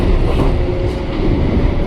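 Loud, steady rumble of an electric KRL commuter train pulling away nearby on the Depok–Bogor line, dense low-frequency roar with faint mechanical clatter throughout.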